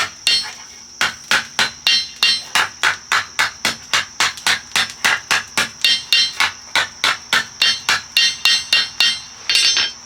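Hot metal being forged into a shovel on an anvil, struck by a hammer in a long, steady series of loud, evenly spaced ringing blows, close and alone, about two or three strikes per second.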